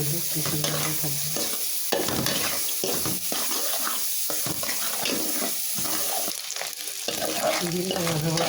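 Bottle gourd pieces sizzle and fry in a pan while being stirred, with scraping utensil sounds throughout; steady and close, no talking.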